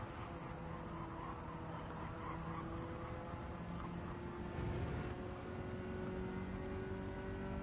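Race car engine in Gran Turismo 7 driving through a chicane, a steady loud drone with shifting pitch as the car works through the corners, with no break in sound.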